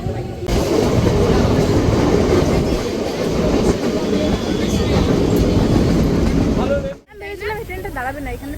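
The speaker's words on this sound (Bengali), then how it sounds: "ঢুকে গেছে আমাদের ট্রেন পুরনো খাটারা ট্রেন" An old, rattling train rolls into a station with loud, continuous rumbling and clickety-clack of wheels, then eases off, followed by nearby voices talking.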